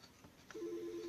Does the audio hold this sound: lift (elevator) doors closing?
no